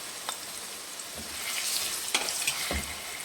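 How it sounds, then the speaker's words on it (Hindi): Chopped onions frying in hot oil in a pan, a quiet continuous sizzle with a few soft stirring scrapes and clicks. "अब इसके अंदर मैं प्याज ऐड करूँगी, जो मैंने एक चॉप किया हुआ था।"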